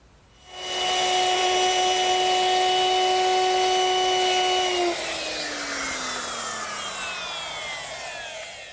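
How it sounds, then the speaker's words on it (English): A router with a 3/8 inch round-over bit spins up to a high steady whine, then drops in pitch as it cuts along the wood edges, loud and close with no talk. "now we'll just round off the edges using the router"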